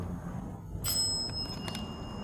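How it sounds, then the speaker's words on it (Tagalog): A bright, ringing bell tone strikes once, then a few lighter rings follow, over a steady low rumble of background noise, inside an abandoned school at night. "Tumutunog ang mga kampana."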